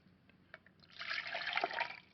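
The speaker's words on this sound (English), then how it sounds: "so I am going to pour my water" Eight ounces of water pours from a container into a small camp stove pot in one short, soft splash lasting about a second, preceded by a few faint clicks.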